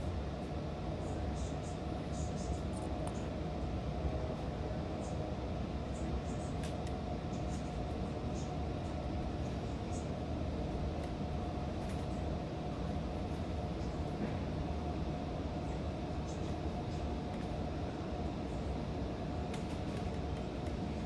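A Long Island Rail Road train pulls out of Riverhead station with a constant heavy rumble and rushing roar that holds steady throughout, with no clear talk over it.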